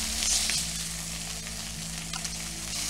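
Sausage sizzles in a hot pan, a loud, continuous frying hiss with fine spitting crackle and a low steady hum beneath, close up and unbroken for the whole moment, no talking.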